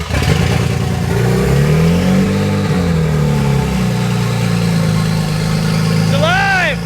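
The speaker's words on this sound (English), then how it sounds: "let's fast forward to when we actually got this car running" A BMW 135i engine running and revving, a loud, close mid-pitched drone that rises and falls through a couple of rev sweeps, with a brief clatter and a sharp rising whine near the end.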